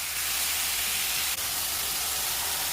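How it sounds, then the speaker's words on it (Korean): Pork sizzles as it stir-fries in a pot with avocado oil, herb salt and sliced garlic, giving a steady, loud broadband hiss with no talk. "고기 붉은기 없어질 때까지 볶아"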